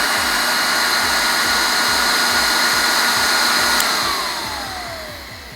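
A Profinstrument LS-1600W hot air welding gun blows with a loud, constant blower roar and steady whine, winding down toward the end as the airflow fades during cooldown.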